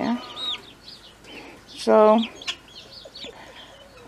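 Backyard chickens and chicks clucking and cheeping nearby, with a louder harmonic squawk in the middle and soft peeping throughout, while a person speaks briefly.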